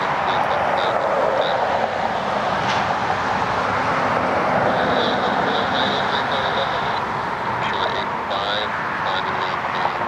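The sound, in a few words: American Airlines flight arriving at Cleveland Hopkins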